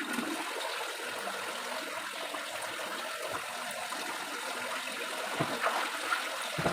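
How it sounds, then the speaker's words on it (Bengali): Water runs and trickles steadily while a thick bedsheet soaks in detergent water, a faint continuous splashing stream with occasional small splats. "এই মোটা চাদরটা আমি ভিজাই নিই।"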